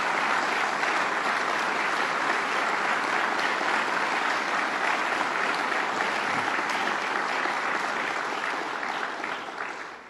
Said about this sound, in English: Let's give the President a round of warm of applause.